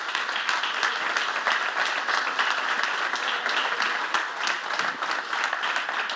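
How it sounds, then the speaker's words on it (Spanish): Sustained audience applause at a talk on Julio Romero de Torres, fashion and art, a dense steady clatter of many hands clapping throughout with no gaps, fairly loud and close. "Recibamos con un caluroso aplauso a Francisco Tamaral."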